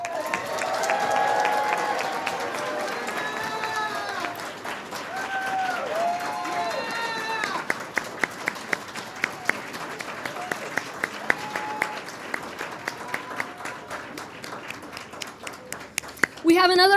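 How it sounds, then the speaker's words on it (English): Audience applause greeting Congresswoman Sylvia Garcia at a moderated conversation with Vice President Harris and the Congressional Hispanic Caucus, steady crowd clapping that carries across the clip, fades and thins into scattered claps while voices carry over it. "So please give a round of applause to our Congresswoman Sylvia Garcia."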